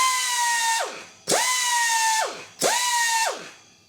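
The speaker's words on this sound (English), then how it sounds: "now I have an old air die grinder, which I've had for a lot of years" An old air die grinder driven by an 8-gallon air compressor, run in three short bursts: each spins up to a loud, steady high whine, holds for about a second, then winds down, close up.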